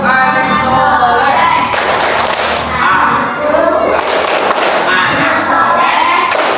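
Children chant the Indonesian 'tepuk anak sore' clapping rhyme together, with loud rhythmic claps and thumps mixed into lively group voices in a classroom.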